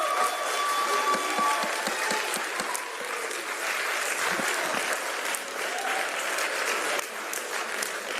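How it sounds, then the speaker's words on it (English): Applause and cheering from a packed crowd fill a city council meeting on funding for a public safety training center, steady and loud throughout with many close, sharp claps. "every time we cheer, we just take longer."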